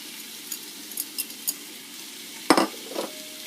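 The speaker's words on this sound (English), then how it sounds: "now our onions have softened up, so we're going to go ahead and put in the rest of our ingredients, which is our sweet pepper" Sweet pepper goes into softened onions in a pot for bean chowder, bringing a steady sizzle with a few light clinks of the spoon and a sharper scrape and clatter of stirring partway through.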